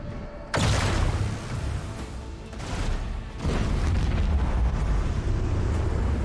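Torpedoes exploding during a space battle in the Rogue Trader video game: a heavy boom slams in near the start and another around three seconds, over a continuous loud rumbling roar of battle noise with no one talking.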